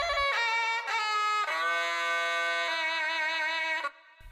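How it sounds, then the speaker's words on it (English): A binai, the reedy Thai oboe-like wind instrument heard at boxing matches, plays a bright sustained trill that shifts pitch in a few steps, loud and close and alone, then cuts off abruptly near the end. "if you take this binai trill"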